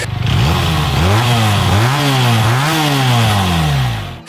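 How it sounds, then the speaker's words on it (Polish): A Benelli inline two-cylinder motorcycle engine revs loudly and close, its pitch climbing and dropping in several quick swells over a rough, throbbing note, with no voices. "Innymi małymi mistrzostwami świata jest brzmienie dwucylindrowej rzędówki."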